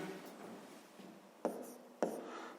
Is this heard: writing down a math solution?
yes